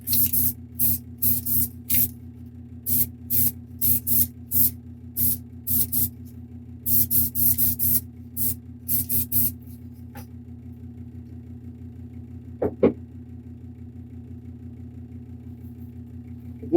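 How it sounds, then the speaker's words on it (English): An airbrush or spray can coats plastic model parts for an Age of Aliens Colossus figure in a series of short, sharp hissing bursts, some clustered and some spaced apart, followed by a quiet stretch with a couple of faint clicks. "So you make sure you turn the parts a lot and spray from all directions."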